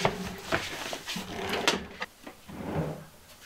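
Kitchen drawers in a converted school bus slide open and shut in quick succession, several close, clattering knocks and thumps with brief runner scrapes, no voices.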